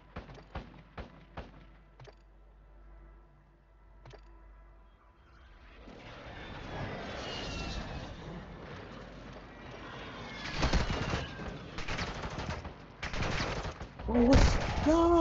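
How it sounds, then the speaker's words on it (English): Explosions and bursts of gunfire from a friendly airstrike in the mobile shooter game Warzone Mobile: a few sharp isolated shots, then dense rumbling blasts that build up and grow louder toward the end. "Friendly airstrike in the AO."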